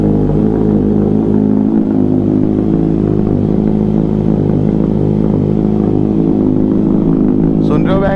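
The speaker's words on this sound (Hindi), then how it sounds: "बाकी सबसे पहले हम कर लेते हैं गाड़ी का कोल्ड स्टार्ट" A Kawasaki Z900 motorcycle engine idles loudly and close after a cold start in the morning, with a deep steady rumble and small lumpy pulses, and a brief voice comes in near the end.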